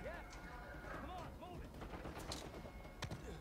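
Gunfire in the video game Uncharted 4: A Thief's End, bursts of shots and impacts crackling through dense game action, with a player's voice talking over the continuous mix.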